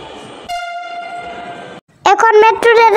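A metro rail train arrives at a station platform, giving a long, loud horn tone for over a second. A brief pause follows, then a burst of bright, chime-like or announcement tones.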